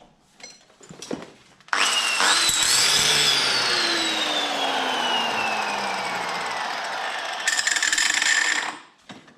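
An electric sander or grinder grinds weld residue off a steel tube on a motorcycle kickstand, spinning up and holding a steady, loud, high whine with a slowly falling tone, then cutting out with clatter around it.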